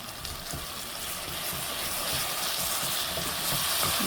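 Spice masala with garam masala powder frying in a pan for a beef shutki dish, a steady wet sizzle and hiss with occasional stirring scrapes, growing slightly louder, no voices.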